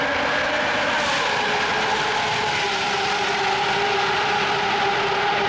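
A Toyota Century SUV's 5.0-litre V12 engine holds a steady, smooth drone with a sustained mid-pitched hum, loud and continuous without break or voices.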